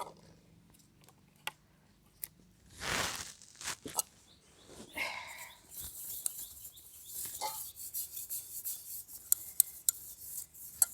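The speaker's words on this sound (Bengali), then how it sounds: "দেখুন বাটিটাতে আমি তেল দিয়ে দিয়েছি" Oil is rubbed around the inside of a bowl to prepare it for baking a mango cake, making soft, close scraping and rubbing strokes in irregular bursts, quiet with a few light knocks.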